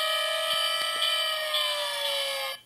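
A Power Rangers GoGo Changer toy blares its electronic siren close and loud, a bright buzzy wail whose pitch slowly glides downward before cutting off sharply near the end, with no talking.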